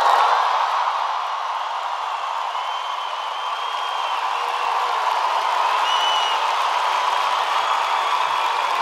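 A large festival audience at the Viña del Mar International Song Festival lets out a sustained, steady wave of crowd noise, loud and unbroken for the full stretch with no speech on top.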